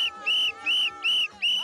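Repeated whistled notes, four or five sustained high tones in a steady rhythm, each held briefly with short gaps between, clear and close with no talk.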